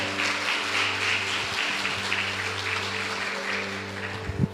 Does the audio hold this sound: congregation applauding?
yes